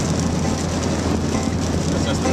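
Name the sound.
heavy rain pouring on a car windshield while driving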